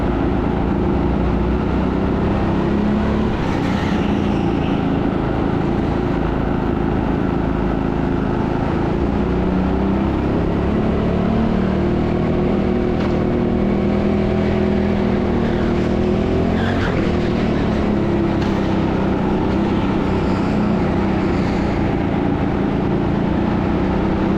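Go-karts race around the indoor TeamSport Sheffield track, a loud, continuous engine drone with shifting pitch as karts accelerate and brake, and occasional tire squeals, with no talking.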